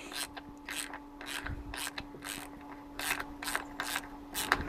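A ratchet wrench loosens the intake manifold bolts on a Mercedes-Benz M272 engine, giving repeated bursts of fast clicking pawl ratcheting at close range with short pauses between strokes.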